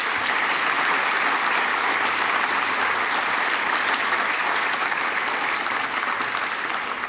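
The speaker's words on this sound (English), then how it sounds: "join me in a round of applause for all of the partners" An audience at a celebration of a university computing and data sciences center applauds the project partners, a sustained, dense round of clapping that holds steady throughout and fades slightly at the end.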